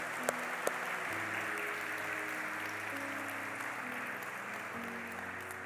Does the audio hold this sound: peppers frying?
no